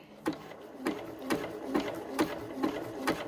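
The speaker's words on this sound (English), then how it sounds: "make sure you use your backstitch option" Sewing machine backstitching a mushroom applique on fabric, a slow, even series of about six mechanical clicks and thumps heard up close, steady in rhythm with no voices.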